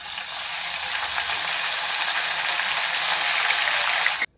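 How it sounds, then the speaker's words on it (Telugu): Steady loud sizzling of dried chillies frying in hot oil, a continuous crackling hiss that cuts off abruptly at the end. "ఎండుమిర్చి మంచిగా ఫ్రై అయ్యేంత వరకు ఫ్రై చేసుకోవాలి"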